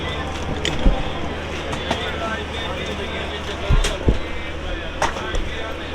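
The 11010 Sinhgad Express rolls into Lonavala station, with low rumbling and clattering wheels and occasional thumps under a busy platform where people talk.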